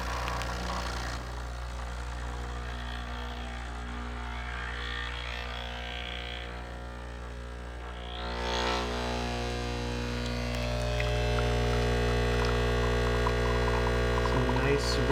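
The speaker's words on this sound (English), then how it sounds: "Now, always pull a double shot." Breville Express BES870XL espresso machine pulling a double shot, a steady loud pump hum and drone running throughout with no talk, swelling slightly louder partway through.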